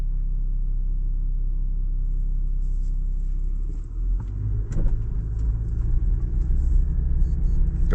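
A 2025 Land Rover Defender 110 D350 in rock crawl mode spins its front wheels off-road, heard from inside as a heavy, steady low rumble that grows rougher and more uneven midway, with a few knocks and scrapes.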